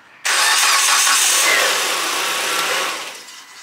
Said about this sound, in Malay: Okey, sekarang kita dah boleh start enjin.